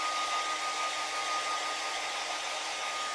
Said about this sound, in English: I am going to hit this just one more time with the hair dryer to make sure we're good and dry